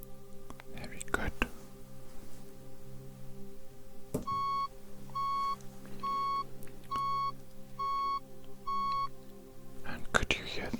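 Beeps from a hearing test in a medical exam role-play, six short, clean electronic tones at a steady rhythm, with soft whispering before and after them.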